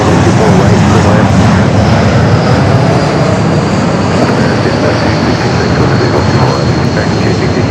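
A fixed-wing airliner on approach to land at LAX produces a loud, steady engine roar that holds evenly throughout, with a faint tonal whine above it and no pause.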